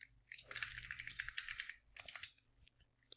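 Quiet, close typing of C# code on a computer keyboard: a fast, steady patter of key clicks in two short bursts, then a few scattered keystrokes at the end.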